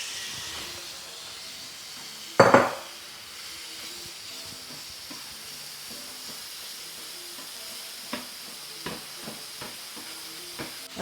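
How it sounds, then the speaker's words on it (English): New York strip steak cooking on a hibachi griddle at home, a steady close sizzle and hiss throughout, with one loud crackling burst as the meat hits the oiled surface and a few faint spatula taps later. "Next, we got our New York strip steak going on."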